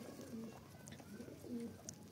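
Pet pigeons coo at home in soft, repeated low throaty calls, faint and close, with a few quiet chirps between them and no talking.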